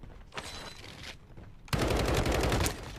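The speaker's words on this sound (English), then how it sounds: "Hearing a lot of gunshots." Gunfire in the shooter video game DMZ, first a muffled burst, then a louder rapid automatic volley with distinct repeated shots, no talk.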